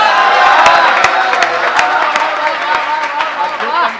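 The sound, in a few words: audience applause at a poetry recital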